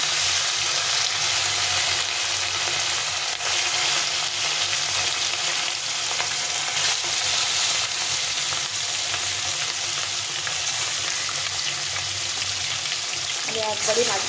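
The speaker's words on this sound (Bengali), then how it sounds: "মাছগুলো প্রথমে ভেজে নেব" Fish sizzles and spits in hot oil in a wok over a steady dense crackle that runs unbroken and fairly loud from start to finish, with faint clinks of a utensil, while preparing a fish curry with cauliflower.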